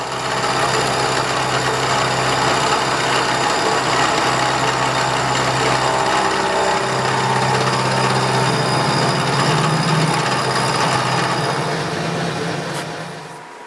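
Grinding a weld off the top of a steel square used for a composite master square: a loud, continuous abrasive whine from a power tool runs for about thirteen seconds. The pitch shifts midway as the grinder bears down, then it fades at the end.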